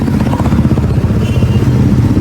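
A faulty vehicle engine with a worn bore revs with a rough, throbbing roar and rattle, close and loud, steady across the short burst with no speech.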